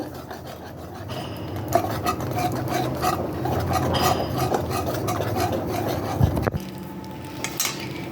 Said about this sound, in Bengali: তারপর দই দেব আর একটু জল দিয়ে ভালো করে কষিয়ে নেব